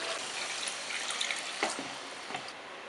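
Water, about four glasses, poured into a pot for chicken biryani with a continuous splashing trickle and a few brighter drips, close and alone without talk.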